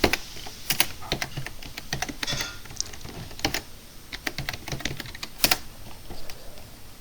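Typing on a computer keyboard while using Windows XP, close-up irregular key clicks in quick runs with occasional louder strikes and no talking.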